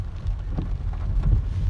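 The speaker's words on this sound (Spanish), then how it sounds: "Hay mucha lluvia, hay lluvia y tal parece que así va a estar todo el día" Rain falls on a road between Coahuila and Durango, a rough low rumble of steady downpour mixed with wind buffeting the microphone; no voices.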